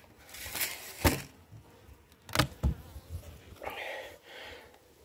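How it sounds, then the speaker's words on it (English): Bees buzz around young, newly brooding beehives outdoors, with soft close passes and brief louder flybys drifting in and out over a quiet background. "I'll show y'all a couple little hives over here that have just started brooding and growing."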